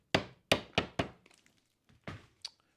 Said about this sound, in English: I'll just staple everything